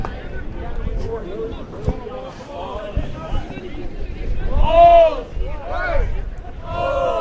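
A rugby team shouts a group cheer on the field, a loud burst of massed voices rising over crowd noise and chatter, with talk around it.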